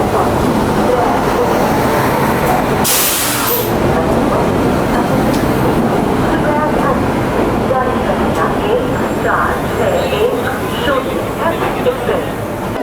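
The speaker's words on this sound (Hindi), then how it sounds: "हेमकूट एक्सप्रेस तो आ चुकी है जम्मू तवी रेलवे स्टेशन" The Hemkunt Express rumbles loudly into Jammu Tawi railway station, steady and close, with a crowd murmuring throughout and a brief sharp hiss partway through.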